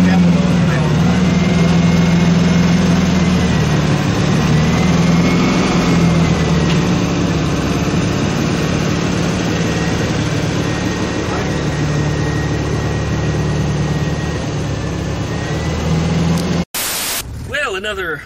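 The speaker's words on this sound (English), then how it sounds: "Still wrong. Runs on 3 cylinders. Hear it?" A Volkswagen engine idles rough on three cylinders with a steady, loud, uneven drone that runs nearly throughout, then cuts off abruptly near the end.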